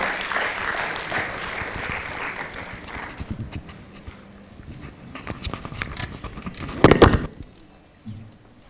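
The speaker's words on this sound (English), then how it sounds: "huge round of applause for Ananya Subramaniam" An audience at a Toastmasters club anniversary celebration applauds, clapping strongest at first and then thinning into scattered claps, footsteps and a few loud bumps as someone walks up.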